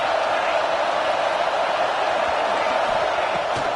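A football stadium crowd at a Michigan at Nebraska game sends up a dense, steady roar of cheering for the defense, loud and unbroken throughout.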